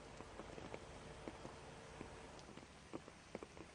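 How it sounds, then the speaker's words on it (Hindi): Continuous January rain falls on Delhi streets, a faint, steady patter with scattered sharper drops ticking on surfaces, distant and quiet throughout. "लगातार बारिश हो रही है"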